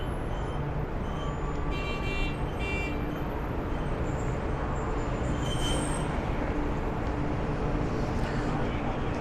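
Bullet trains at a station platform in China, a steady rail hum with brief tonal squeals and chimes partway through, heard continuously at moderate level.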